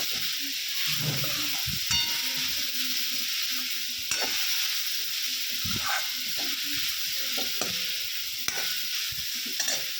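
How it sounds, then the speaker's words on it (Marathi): Dried shrimp (sukat) is stir-fried in a pan for an Agri-Koli style chutney, with a constant close sizzle and repeated spatula scrapes and stirs, and no talking. "सुकट टाकल्यानंतर दोन ते तीन मिनटं हे सगळं मिक्स करून छान परतून घ्यायचं"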